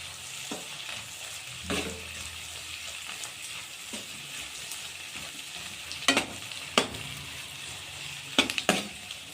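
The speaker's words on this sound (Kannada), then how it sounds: "ಅರ್ಧ ಸ್ಪೂನಷ್ಟು ಅರಿಶಿನ ಇದು ಹಾಕೊಂಡೆಲ್ಲ ಮಿಕ್ಸ್ ಮಾಡ್ಕೊಂಡ್ಬಿಟ್ಟು" Onions fry in a pan with turmeric stirred in, a soft steady sizzle broken by several sharp scrapes and clinks of a spoon against the pan, with no talking.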